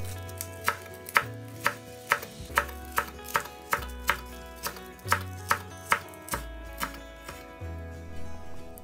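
Vegetables for soup and garnish are cut with a knife on a board, a brisk run of crisp, evenly spaced chops close by, about a dozen strikes with short pauses between, no talking.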